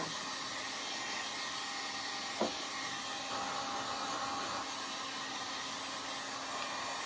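A hair dryer blows steadily on a glass bottle being dried before painting, a constant close whooshing hum throughout with no talk.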